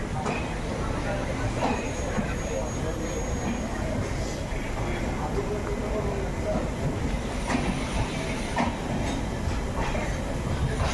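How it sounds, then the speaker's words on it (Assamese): A passing train on the route from Guwahati to Chaparmukh, heard as continuous rumbling with rhythmic clickety-clack of wheels on rails and faint squeals, steady and fairly close throughout. "ট্ৰেইনখন গৈ আছে"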